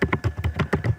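Python code being typed on a computer keyboard gives a quick run of about eight or nine close, crisp key taps in an even rhythm, with no talking.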